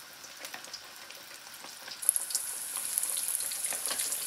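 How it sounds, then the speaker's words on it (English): Chicken wings frying in hot grease on a stove, a soft crackle that jumps into a bright, steady sizzle as the wings drop in and keeps hissing close by, with no talk. "Let's drop these wings up in this hot grease."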